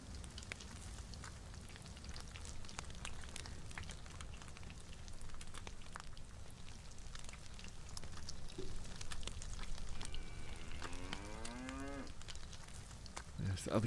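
A cow in the video game DayZ lets out one long, wavering moo near the end, over steady rain-like background noise.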